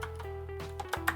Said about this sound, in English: So I type in the letter L, capital L, hit the tab key